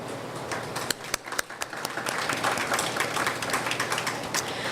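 Sustained audience applause from a community gathering, many hands clapping steadily at moderate loudness with a few sharper isolated claps early on, no voices over it.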